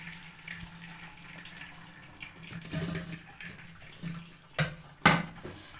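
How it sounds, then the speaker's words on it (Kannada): Cooking water from boiled greens pours through a sieve into a pot below, a soft steady trickle that swells into louder splashing gushes near the end. "ಇವಾಗ ಸೊಪ್ಪು ಜರಡಿಗೆ ಸೋಸ್ಕೊಂಬಿಡೋಣ"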